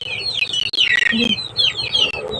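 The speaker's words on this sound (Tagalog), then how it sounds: "Yung maliliit na mga manok, Jay. Akyat na lang sila." Small chickens chirp and cluck in a busy, overlapping chorus of high, quick calls, close by and continuous.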